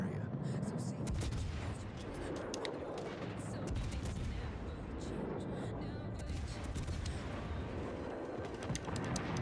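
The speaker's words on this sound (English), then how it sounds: "Shoots his guns." Naval gunfire from a destroyer in a warship battle game, a dense barrage of booming shots and blasts layered over a steady low rumble, loud and continuous throughout.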